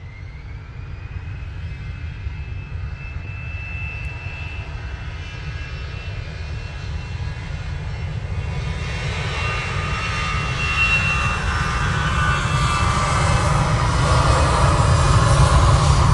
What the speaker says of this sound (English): Ryanair is about to land.